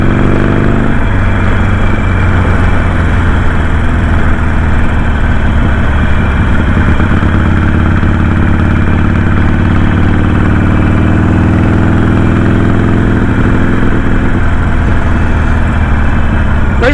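A Harley-Davidson Sportster motorcycle engine idling up close, a loud, deep, continuous rumble with a steady lumpy pulse running unbroken throughout.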